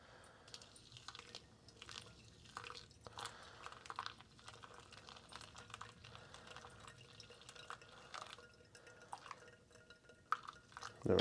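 Water poured over ground coffee during a pour-over brew, quiet irregular trickling and dripping with a few light clinks of equipment, close and faint, no talk.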